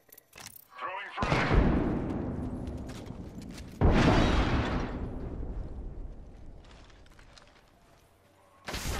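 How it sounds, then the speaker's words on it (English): Two loud frag grenade blasts in a video game, each a sudden booming burst that rolls off into a long fading rumble, with a sharper crack arriving at the very end. "Throwing frag."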